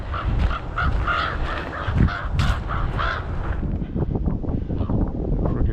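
Crows caw repeatedly outdoors, one bird chasing another, with harsh calls scattered across the whole stretch over steady wind noise on a walk in Maine.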